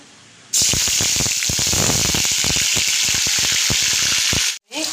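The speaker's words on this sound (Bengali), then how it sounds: "চামচের দু চামচ পেঁয়াজ বাটা দেবো" Onion paste dropped into hot oil for a pabda fish curry bursts into a loud, sudden sizzle that stays strong and crackling for several seconds before cutting off.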